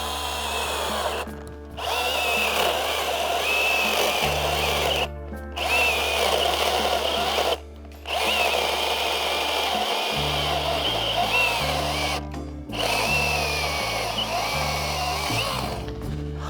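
A battery-powered Makita 18V mini chainsaw saws through a freshly felled tree trunk, a loud, steady whining buzz in several long cutting runs with brief pauses between them.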